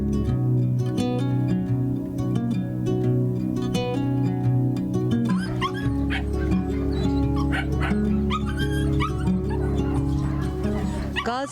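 Dogs in a municipal dog shelter bark, yip and whimper in a dense overlapping chorus, many animals close and loud, with a faint voice now and then under the noise.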